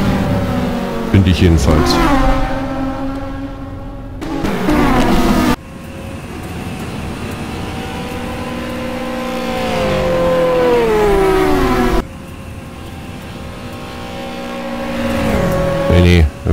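Sim race cars run a fast formation lap in a racing game, their engines droning and sweeping in pitch as they pass and shift, with someone talking over them throughout.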